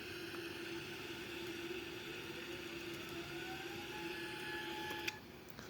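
Both jet engines of a Boeing 787 run at a steady idle, giving a constant whining hum with a slowly rising tone. The sound stays even throughout and is heard alone, without talk.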